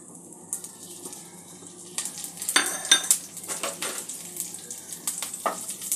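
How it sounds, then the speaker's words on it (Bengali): A tempering of dried red chili, five-spice and slit green chilies fries in mustard oil, starting as a faint hiss and then breaking into sharper sizzling, spattering pops and spoon clinks against the pan, close and moderately loud. "ফোড়নটা একটু ভেজে নেব।"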